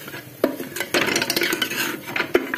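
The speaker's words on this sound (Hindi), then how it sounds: "अच्छे से मिक्स कर दूंगी और इसमें पानी डाल दूंगी" A metal spoon stirs yakhni spices and water in a cooking pot, with sharp close clanks against the rim and a wet swirling scrape between them, no talking.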